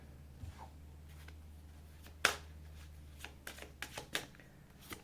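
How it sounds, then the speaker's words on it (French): Tarot cards are shuffled and set down on a table: soft riffling followed by several sharp, close slaps and flicks of cards being placed, quiet overall with no talking. "je vais reposer une autre carte"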